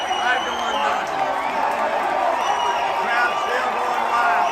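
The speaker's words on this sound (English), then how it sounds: "Crowd still going wild." Dodger Stadium crowd roaring after a bases-loaded grand slam home run, a dense, steady wall of cheering and whooping that holds loud for the whole stretch with overlapping voices and no clear single speaker.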